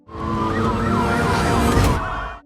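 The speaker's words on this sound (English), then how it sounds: "But before anything more could happen, police sirens blared." A police siren wails loud and close for a couple of seconds, its pitch warbling up and down over a low traffic rumble.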